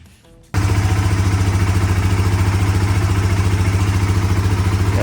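A Polaris ACE fitted with a new fuel pump bursts into life after a brief quiet moment, then idles close by with a steady, rhythmic clattering throb.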